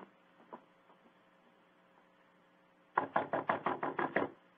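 Knocking on a door in an old radio drama: a couple of faint taps, then a clear run of about eight quick, even knocks, near and fairly loud.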